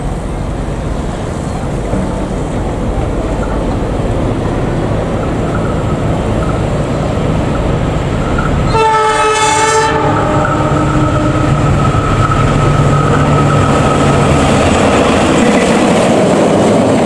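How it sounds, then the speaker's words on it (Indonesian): Cikuray passenger train running straight through Rancaekek station without stopping, a loud steady rumble of wheels and cars throughout with a long horn blast sounding midway. "Kereta api Cikuray melintas langsung di stasiun Ranca Ekek menuju tujuan akhir stasiun Pasar Senen"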